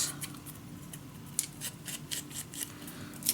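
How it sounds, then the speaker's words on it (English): Scissors snip small corners off paper for a double folio scrapbook project, a series of quick, crisp cuts in an irregular rhythm, close and fairly quiet with no talking. "I just cut a very small corner off, so you get a little round"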